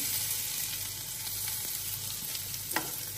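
Chopped garlic frying in oil in a pan, with a steady close sizzle and crackle throughout and a single faint clink near the end.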